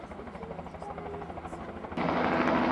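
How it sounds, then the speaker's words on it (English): A rescue helicopter flies over a mountain road in Banff and Jasper national parks, its steady rotor drone growing noticeably louder partway through as it comes closer. "a rescue helicopter was called"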